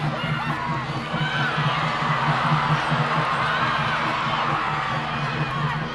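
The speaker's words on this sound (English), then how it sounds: "This crowd urging their team forward." Dense rugby stadium crowd at a Japan v Ireland Rugby World Cup 2017 pool match, a loud continuous roar of cheering and urging as the forwards drive, with a steady low hum beneath and no clear break throughout.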